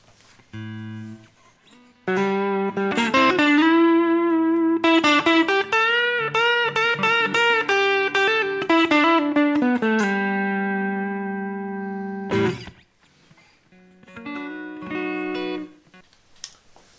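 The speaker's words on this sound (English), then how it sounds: "So I'm going to go through a tube screamer" An electric guitar, a 2017 Fender American Professional Telecaster through a Tube Screamer overdrive pedal into a Kemper amp, with a gritty overdriven tone plays sustained chords and short riffs, ringing out loud, with pauses between phrases.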